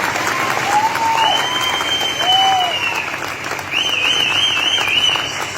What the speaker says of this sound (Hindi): दिल से ताली होनी चाहिए।